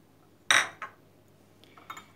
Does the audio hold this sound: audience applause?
no